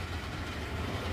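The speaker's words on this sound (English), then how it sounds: "we're back with the G64 southbound ethanol train" A Norfolk Southern southbound ethanol freight train rolling past in Valdosta, Georgia, a continuous close rumble of railcars with no pauses through the brief stretch.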